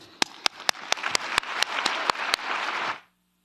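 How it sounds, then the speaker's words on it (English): Audience applause fills the UN General Assembly Hall at a film screening event, a dense steady wash of many hands with a few sharp nearby claps standing out, lasting about three seconds before cutting off to near silence. "They deserve a big applause."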